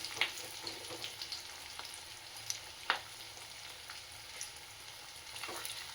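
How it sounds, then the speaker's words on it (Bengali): Boiled potatoes frying in oil in a pan, a quiet steady sizzle broken by a few light spatula taps and scrapes as they are stirred, heard close up without any talking. "আলুটা একটুখানি জাস্ট তেলে একটু ভাজা করে নেবো, সেদ্ধই তো আলু, জাস্ট একটু নেড়ে নেবো।"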